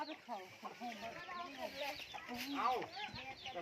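Chickens cluck repeatedly close by, a rooster and hens among them at a rural Thai farm pond, with busy overlapping calls and a voice talking over them throughout.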